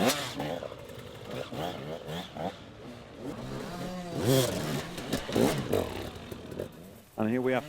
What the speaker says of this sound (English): who was on good form on the 2-stroke KTM, giving it full revs